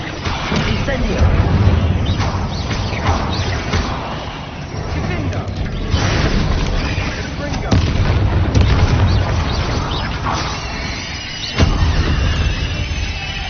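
The Incendio fire spell in Hogwarts Legacy blasts as a loud, rumbling roar with booming bursts that swell and fade over several seconds.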